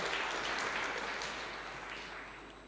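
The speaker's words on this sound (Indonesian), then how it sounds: "Berikan tepuk tangan yang meriah buat Tuhan." Broad, steady applause from a church congregation during a sermon, a dense wash of clapping that fills the whole moment and slowly fades toward the end.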